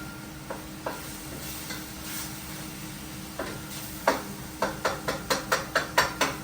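Lean turkey cooking over lowered heat in a pan with little oil, a faint sizzle under steady scraping, then a run of quick rhythmic spatula taps and stirs near the end, close and fairly quiet.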